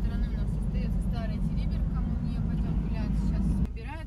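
A car drives along a road toward a hotel in Teriberka in the Russian Arctic north, its engine and road rumble steady and close throughout, with faint voices in the background.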